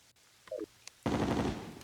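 Rapid gunfire in Terraria, a dense burst of quick shots that starts abruptly after a few faint game blips and keeps going close and loud.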